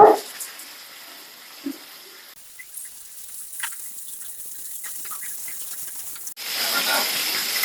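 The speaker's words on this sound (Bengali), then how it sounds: "ভালো করে উল্টে পাল্টে ভেজে নিব।" Quail pieces, rubbed with salt and turmeric, fry in hot oil in a pan, a hissing sizzle that swells loudly at the start and again near the end, softer and crackling in between.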